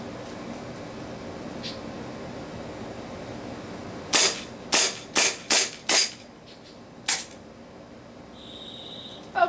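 WE 1911 KB custom gas airsoft pistol firing BBs, six sharp distinct pops in a quick uneven series, with one more shot after a short pause and a faint hiss afterward.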